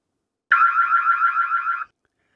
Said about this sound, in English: I'm pretty sure my neighbors appreciated that 110 decibel alarm that just went off at almost 10 o'clock at night